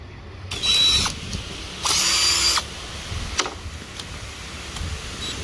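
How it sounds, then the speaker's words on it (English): A power drill boring a hole in a gas tank shield for a GMC Sierra or Chevy truck, two loud bursts of whining drilling a second apart, followed by faint clicks and handling noises. "next thing we're gonna do is we're going to drill a hole."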